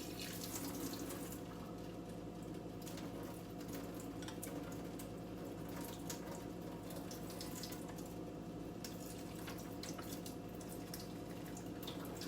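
Lentil cooking water being poured out into a kitchen sink, a steady broadband rush and splash that runs unbroken and fairly close with a constant level and no talking.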